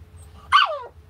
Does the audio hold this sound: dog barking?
yes